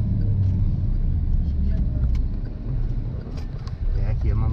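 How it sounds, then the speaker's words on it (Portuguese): Car engine revving during a driving lesson, a low rumbling engine swell beneath road noise that rises and falls over a few seconds, with brief voices in the cabin. "Acelerou, o motorzinho fez barulho, né?"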